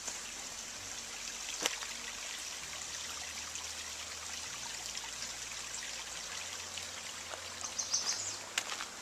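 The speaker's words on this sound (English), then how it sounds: "Nice little streams." A small stream trickles through snowy woods, a faint steady flow with a low background hum and a few soft ticks, no voices.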